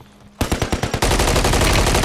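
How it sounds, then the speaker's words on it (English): Automatic gunfire in the video game Call of Duty, a loud close rapid burst of shots that merges into a sustained roar of continuous fire. "Oh, they're shooting at me."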